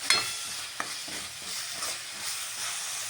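Finely chopped onion sautés in a pan for bread pakoda, a soft steady sizzle with a few light stirring clicks and scrapes, close and quiet with no speech.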